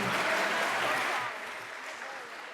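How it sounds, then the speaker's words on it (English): An audience applauds a student team at a school event, a wash of dense clapping that is strong at first and then drops to a softer, steady level, with some talk mixed in. "Give him a round of applause."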